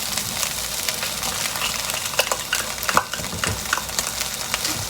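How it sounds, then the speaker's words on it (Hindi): Green peas are stirred into a frying masala in a pan, giving a dense, steady sizzle with scattered scrapes and clinks from the spoon, close and fairly loud. "और ये अच्छी तरह मिक्स करें"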